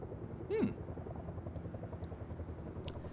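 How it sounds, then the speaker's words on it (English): A helicopter in the survival video game Rust, a faint, steady rotor chop droning in the background throughout. "Goddamn helicopter."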